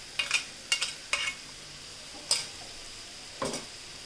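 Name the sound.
onions frying with green chilli coriander paste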